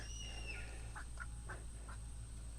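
Male ducks quacking outdoors, a few short nasal quacks spaced out over a couple of seconds, faint and somewhat distant against a steady low hum.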